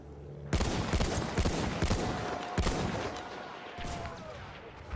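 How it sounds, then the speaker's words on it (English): A World War I field gun in Battlefield 1 booms loud and near several times, the blasts ringing out over steady background gunfire and battle noise. "He's on the field gun there."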